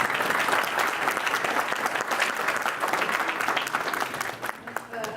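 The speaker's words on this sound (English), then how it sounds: "Can we have a round of applause?" Warm applause from an audience, steady and full, tapering off slightly toward the end.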